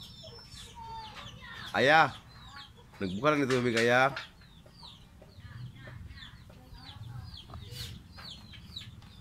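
Chickens cluck and a rooster calls in a farmyard, two loud close bursts standing out over a low steady background, with people speaking in Filipino throughout.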